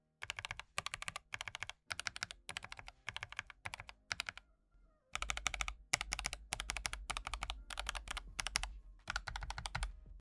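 Typing on a Razer BlackWidow V4 Low Profile wireless keyboard, quick close bursts of crisp clacking keystrokes in short runs separated by brief pauses, heard alone.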